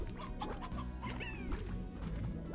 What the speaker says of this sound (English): you see chickens wandering everywhere